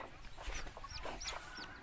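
Old laying hens clucking in short, rising calls that repeat several times, faint and a little distant over low background noise.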